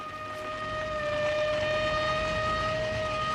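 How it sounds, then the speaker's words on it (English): A police car siren wails loudly and steadily for the whole stretch, its sustained tones filling the scene with no voices over it. "It's not the Martians. It's a police car."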